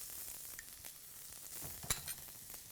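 Garlic, ginger and chopped onion fry in a pan for a Chinese-style hot and sour vegetable soup, giving a soft, steady sizzle broken by faint stirring clicks and one brief sharp clink.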